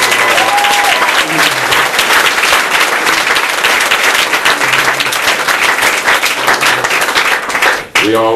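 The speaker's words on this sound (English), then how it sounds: "Let's give her a round of applause for fighting for us." A room of audience members claps loudly for Katherine Albrecht at a talk at Brave New Books, a steady dense ovation lasting several seconds that breaks off at the end, with some voices and cheers mixed in.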